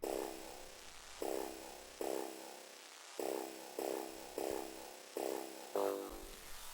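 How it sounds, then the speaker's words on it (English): A second, brighter 808 from Rio's drum kit, tuned for more high end, repeats in a steady pattern of soft, decaying hits, faint and alone. "Then we get another 808 out of Rio's drum kit."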